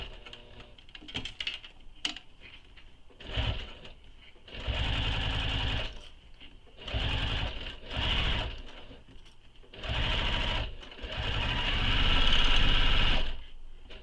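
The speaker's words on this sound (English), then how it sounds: "now I'm going to stitch as close as I can to the bottom of this pocket" A sewing machine stitches along the bottom of a leather wallet pocket, running in several bursts of steady mechanical whirring separated by short pauses, close and clear with no talking.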